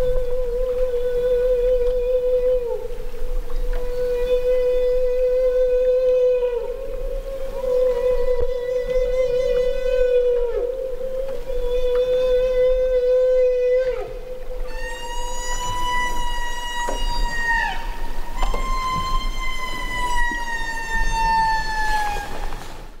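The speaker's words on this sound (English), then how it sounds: "Feeding calls are typically produced when animals are, of course, feeding, and they're a very high-pitched wailing sound." Humpback whale feeding calls: long, loud, high-pitched wails held steady in repeated sweeping tones, later rising into brighter, higher cries, with no talk.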